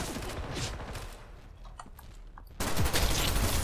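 Rapid gunfire rattles in the shooter game Ghost in the Shell: First Assault Online, dense bursts that thin out briefly before a loud renewed volley.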